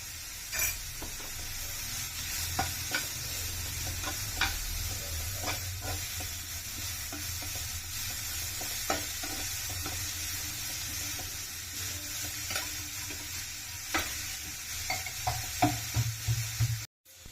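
Grated raw papaya for a Kerala-style omakka thoran sizzles steadily in a pan while a spoon stirs it, with frequent light scrapes and clinks over the continuous close frying hiss.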